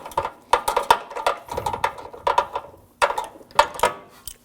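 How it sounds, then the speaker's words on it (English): Ratchet wrench with an extension and socket turning bumper bolts on a 2013-2015 Subaru XV Crosstrek, close, sharp rapid clicking in two bursts of strokes with a short pause between, no talking. "I'm just going to use the extension and a socket"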